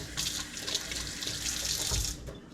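A kitchen tap runs steadily into a sink while egg yolk is rinsed off hands, a continuous close hiss of water that cuts off near the end.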